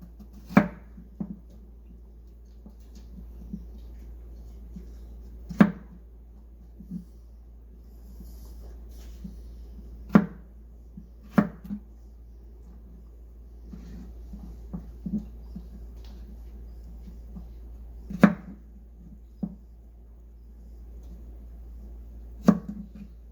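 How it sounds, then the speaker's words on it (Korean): A knife slices garlic on a cutting board in a quiet kitchen, sparse sharp taps spaced irregularly over soft background hum, each chop crisp and close. "이제 마늘을 썰어 줍니다"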